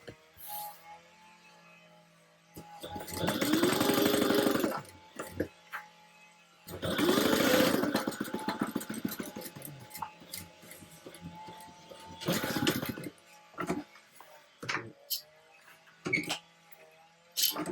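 A sewing machine stitches a jazz tote bag in two steady whirring runs of a few seconds each, followed by a shorter burst, with quiet handling noises and pauses between them.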